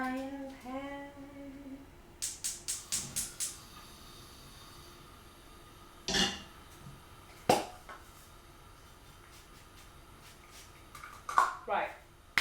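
A frying pan is handled in a home kitchen while burgers are made, giving a quick run of metallic clanks followed by a few scattered knocks and rattles. A voice talks briefly at the start.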